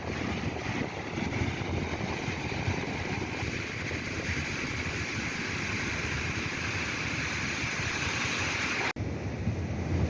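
Ocean waves roll and wash continuously onto Molang Beach, with dangerous surf and currents, giving a broad steady roar mixed with wind buffeting the microphone.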